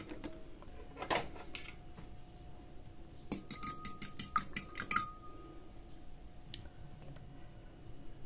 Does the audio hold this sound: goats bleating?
no